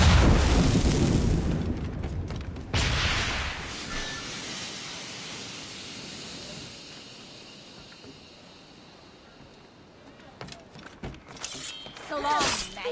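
A grenade blast in the video game Assassin's Creed Rogue: a loud, broad burst at the start, a second rumbling boom a moment later, then a fading tail of low debris noise before scattered voices and combat sounds return.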